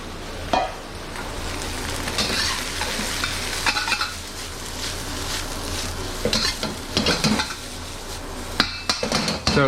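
Rice stir-frying in a smoking-hot wok with a couple tablespoons of oil, a steady loud sizzle broken by repeated scraping and tossing clatters of the spatula against the pan, with no voices.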